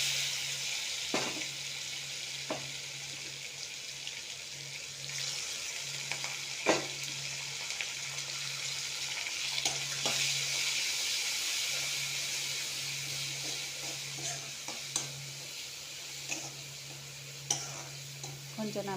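Food sizzling and bubbling in a pan, a continuous hiss with occasional sharp scrapes of stirring, steady and close.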